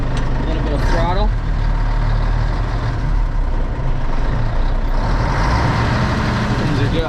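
A Mack truck engine, just restarted on its battery, runs loud and close with a bit of throttle, a steady heavy diesel rumble holding throughout with a slight swell partway.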